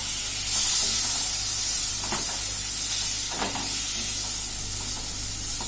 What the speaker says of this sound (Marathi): आणि हे जे पनीर आहे ना, ते पण आपण थोडं शॅलो फ्राय करून घेऊया.